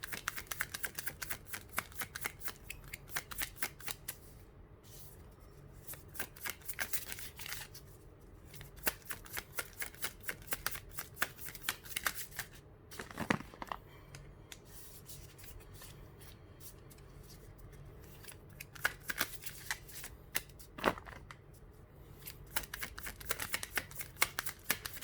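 Tarot cards are shuffled and drawn by hand for close to half a minute, a dense run of crisp riffling flicks and soft slaps, near and fairly quiet, with brief louder snaps along the way.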